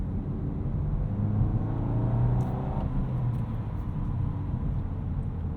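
Steady low engine drone and road rumble inside a 2022 Volkswagen Golf R with a 6-speed manual, heard from the cabin with no talk and a few faint ticks up high.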